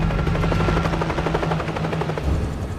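A helicopter in a film thumps with steady, rapid rotor chop, loud and close, with no voices over it.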